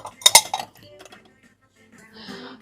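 Glass-ceramic dishes from a blue dishware collection, including a flower-patterned salad bowl and plate, clink sharply twice close up at the start, followed by faint handling noises and a soft voice murmuring.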